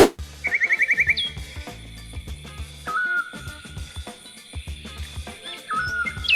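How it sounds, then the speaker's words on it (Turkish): Birds chirp and trill at five in the morning, ringing out in quick bursts over a rhythmic backing of beats and music, bright and fairly loud. "Sabahın beşindeki kuşlar."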